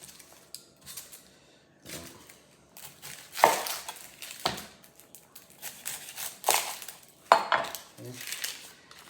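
A knife chops onions on a cutting board, preparing them for French onion beef noodle soup: irregular close clacks and taps with short pauses between bursts, and no voices.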